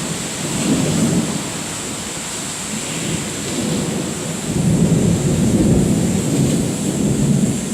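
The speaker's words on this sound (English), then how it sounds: "when I hear thunder like that, it's not really pretty at all" Thunder rolls through a severe thunderstorm in the Bronx, New York City, deep rumbles swelling and fading under steady rain hiss, with a louder, heavier roll near the end and no talk.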